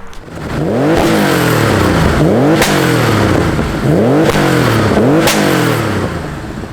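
A 450bhp classic Porsche 911 Turbo race car accelerates hard in a 0-60 test, its engine revving loud and close through rising gear sweeps, with sharp shifts roughly every one and a half seconds.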